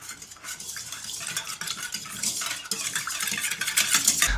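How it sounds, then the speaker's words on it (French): Milk and yeast are stirred together in a mixer bowl, giving a close, continuous swishing and scraping that grows louder toward the end, with no talk. "On commence par mettre dans la cuve le lait, la levure et on mélange."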